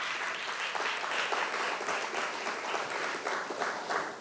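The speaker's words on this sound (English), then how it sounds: "Give yourselves a resounding round of applause." Audience at a gathering gives a sustained round of applause, a continuous even wash of many hands clapping, moderately distant and soft, with no talking.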